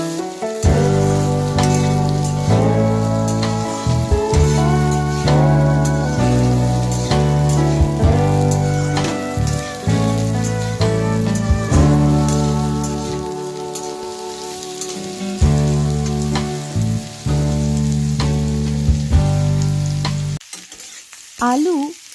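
Potatoes and jackfruit fry in a karahi in a home kitchen, a steady sizzle with stirring clatter running under a loud stretch of background music that nearly drowns it, cutting out briefly near the end.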